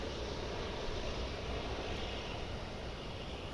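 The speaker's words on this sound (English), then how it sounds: "As we watch this flight coming in from Wichita, looks like an A319" Airbus A319 airliner on approach arriving from Wichita at DFW International Airport, a steady, fairly distant jet engine roar with broadband rushing noise that holds even throughout.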